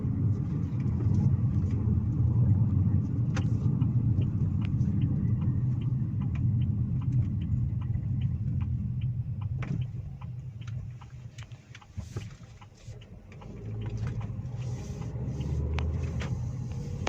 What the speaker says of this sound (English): the moment you floor it, the response is instantaneous.